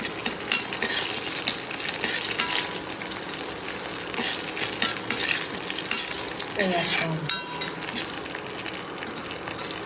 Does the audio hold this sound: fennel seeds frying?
yes